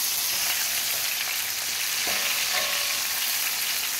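Onion and garlic sauté in a generous amount of oil in a pan, giving a steady, close, bright sizzle throughout with a few faint stirring touches partway through, and no voices.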